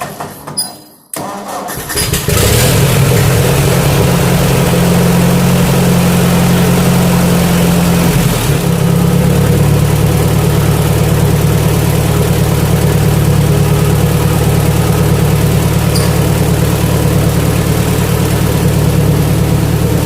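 A Ford 8N tractor engine cranks briefly, catches and fires up, then settles into a loud, steady, rumbling idle that continues close by without letting up for the rest of the twenty seconds.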